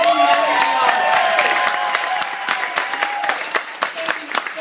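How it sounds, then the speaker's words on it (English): Applause from an evening audience at a speech, dense sustained clapping filling the room and thinning slightly toward the end, with some crowd voices mixed in. "Can you please give a round of applause?"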